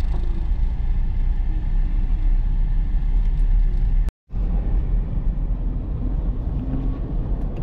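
Busy Friday traffic full of trucks on the road to Lobo, Batangas, heard from inside a vehicle: a steady low rumble of engines and tyres that cuts out for a moment, then resumes.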